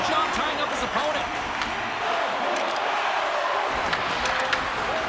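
Arena crowd noise from NHL 26 during a tied Stanley Cup Finals game between the New Jersey Devils and Colorado Avalanche, a constant loud roar of the crowd with occasional thuds and clacks from the ice.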